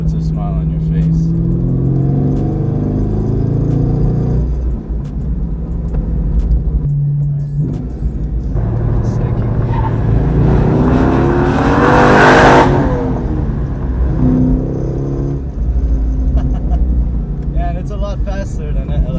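A 2002 Chevy Corvette Z06 C5 pulls hard in second gear through a short shifter, its V8 engine rumbling and rising in a loud, sustained acceleration that swells to a peak before easing, with someone talking over it.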